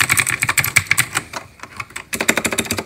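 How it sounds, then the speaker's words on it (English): Rapid typing on a keyboard with tactile switches, a close, crisp run of clacky keystrokes in quick bursts with a brief pause midway before the fast rhythm resumes. "This is how it sounds. Tactile switches."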